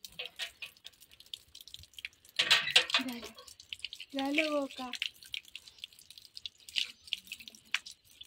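Water splashing and dripping while a child is bathed with shampoo, short pours and drips between bursts of close talking.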